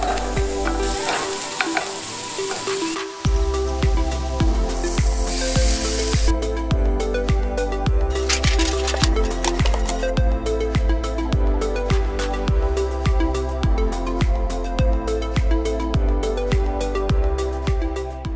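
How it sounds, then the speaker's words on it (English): French fries frying in oil at a rooftop camp kitchen setup, a steady loud sizzle with bubbling crackle throughout, no voices. "Now let's get back to making french fries."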